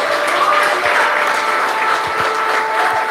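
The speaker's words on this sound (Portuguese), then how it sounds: "Você pode aplaudir ao Senhor por isso?" A church congregation applauding, a steady wash of many hands clapping together that carries on evenly from start to finish.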